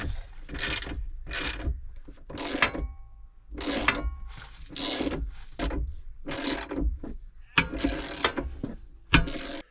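Bolts being unscrewed from a seat in a Transit camper van, a series of repeated ratcheting bursts with short pauses between them, close by and without speech.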